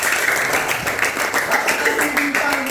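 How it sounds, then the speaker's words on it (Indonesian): A classroom of elementary school children claps for fellow students, a dense, steady patter of many hands close by that carries on for a few seconds. "Oke, tepuk tangan dulu buat mereka."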